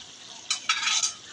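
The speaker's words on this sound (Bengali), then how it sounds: "এবার নাড়াচাড়া দিয়ে মিশিয়ে নিচ্ছি যতক্ষণ না পর্যন্ত চিনিটা খুব ভালোভাবে না গলে" A utensil stirs olive pickle in melting sugar in a cooking pan, giving two or three quick scraping, sizzling strokes that are fairly loud and close against a quiet background.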